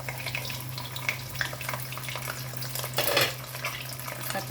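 Food frying in hot oil in a home kitchen, a continuous crackle and spitting sizzle over a low steady hum, with a louder burst of splatter partway through and no talking.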